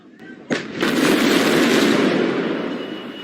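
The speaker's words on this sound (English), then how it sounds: "There's been a large explosion in Lebanon's capital, Beirut." A huge explosion at Beirut port in Lebanon, recorded in news footage: a sharp crack followed by a heavy, sustained roar and rumble that fills the scene and slowly fades.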